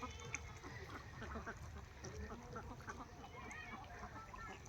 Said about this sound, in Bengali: অনেক সুখে ঘুরতেছে হাঁসগুলা